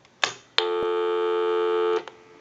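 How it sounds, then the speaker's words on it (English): A steady electronic dial tone from a Grand Desk telephone holds for about a second and a half, preceded by a short burst and ending with a click, loud and close. "Hang our unit up, give you some dial tone."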